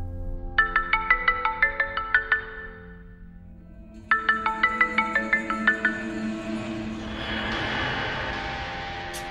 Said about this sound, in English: This time I use the ringtone to trigger the marksman mode.